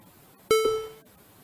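A single electronic beep from a LEGO robot, a short bright tone that is clear and fairly close, followed by a softer echo and then quiet.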